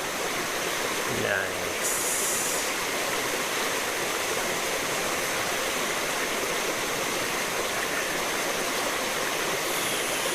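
Flowing stream water rushing steadily and loudly, a dense unbroken hiss close by, with a brief spoken word near the start.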